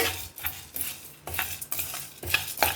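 Cumin seeds and coriander seeds fry in a pan over medium flame, a spoon scraping and stirring in several quick strokes above a faint sizzle, close with no talk.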